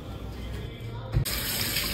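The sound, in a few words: washing fish in water at the kitchen sink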